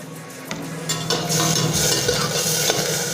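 Bay leaf, star anise and a piece of cinnamon fry in hot ghee for brinji rice, giving a steady loud sizzle. A metal spoon stirs and clinks against the pan now and then, with no voices.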